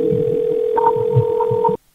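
A telephone line gives a steady electronic call tone joined by a second tone partway through, sounding alone before it cuts off abruptly.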